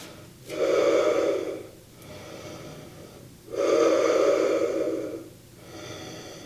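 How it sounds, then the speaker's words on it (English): Two deep, full breaths are drawn in during a core workout, each a long, loud, close inhale followed by a softer exhale, heard alone with no talking. "More seconds, big full breath."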